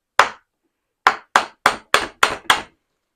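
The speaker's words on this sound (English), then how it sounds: "time to get the hammer" Seven sharp hammer strikes on an antique Finnish spinning wheel being refurbished, one isolated blow followed by a pause and then six quick, evenly spaced hits, close and loud with no talking.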